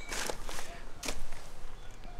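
Rocks and gravel being dug up in a garden: a run of scraping, crunching strikes, close and fairly loud, in an uneven rhythm.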